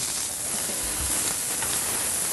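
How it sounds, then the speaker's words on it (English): Food sears in a hot pan with a loud, dense, even hiss that fills the whole stretch without a break. "Put them in the pan and let them sear."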